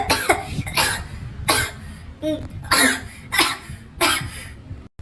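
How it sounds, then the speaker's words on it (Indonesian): A child coughs in a series of about six harsh, loud bursts spread over several seconds, close by in a quiet room. "Tuh, kan bener batuk."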